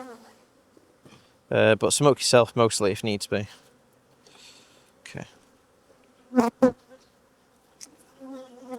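Honey bees buzz at an opened hive of angry colonies during requeening, a dense droning swarm close by, with a person talking over it intermittently.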